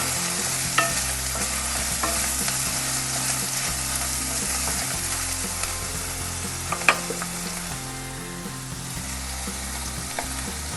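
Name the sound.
stirring carrot and capsicum pieces frying in a pan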